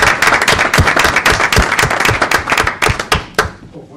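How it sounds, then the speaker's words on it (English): Dense, steady applause from a crowd, loud and continuous, trailing off quickly near the end. "can I suggest we have a round of applause for Mr. Slater for a nice new jacket?"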